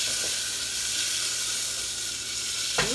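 Vegan butter sizzles as it melts in a hot pan, a steady close frying hiss running without pause, with a brief higher clink near the end.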